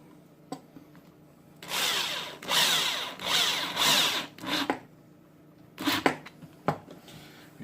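Power drill driving drywall screws into wood to fix an L bracket, heard as several whirring bursts of a second or so each, close and fairly loud, with short clicks and handling knocks between runs and no talk.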